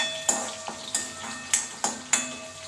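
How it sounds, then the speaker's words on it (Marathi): Onion sautéing in hot oil, with a quiet continuous sizzle and a handful of sharp spatula knocks against the pan at irregular intervals, close by, no talking. "तेलात व्यवस्थित परतून घेते"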